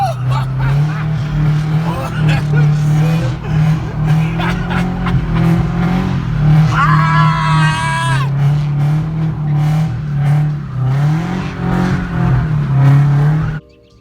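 A Chevrolet Cobalt engine drones loudly and steadily, with tire squeal and revving as it spins donuts, while excited voices shout over it.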